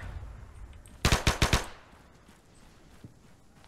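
Machine gun fire in ArmA 3: a short burst of about five loud, sharply spaced shots near the middle of an otherwise quiet stretch, with no talking.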